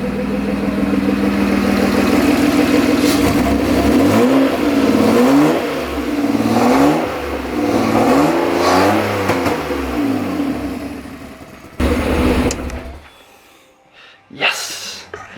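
BMW M50B20 engine in a Toyota T18 drift car with a newly fitted exhaust, revving repeatedly in loud rising and falling bursts at close range, then cutting off abruptly and giving one last short blip; voices talk over it.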